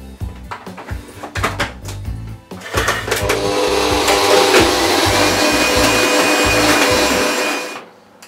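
An electric hand mixer creams muffin batter in a bowl after some knocks and clatter at the start. It then runs as a loud steady whir for about five seconds before cutting off.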